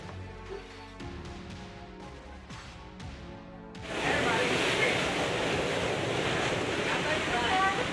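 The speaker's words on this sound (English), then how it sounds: "Lake Michigan roared as massive waves crashed against the pier" Massive Lake Michigan waves crash against a pier. After a few seconds of music, a loud, continuous roar of pounding surf and wind takes over and holds steady to the end.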